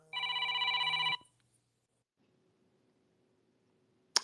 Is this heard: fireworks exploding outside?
no